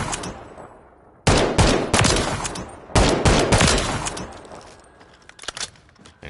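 Rapid bursts of gunfire from a weapon in Call of Duty MW3, loud close volleys in two sustained strings with brief pauses and a sharp tail of shots at the end.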